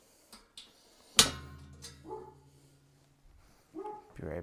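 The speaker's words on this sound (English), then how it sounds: "I think that's my dog." A dog barks once sharply and loudly, then lets out a few softer whimpers and yips, indoors amid light background clatter; the sounds are intermittent with quiet gaps between them.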